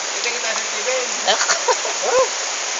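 Rain falling steadily, a dense continuous hiss of drops on surfaces filling the whole clip, with people talking over it.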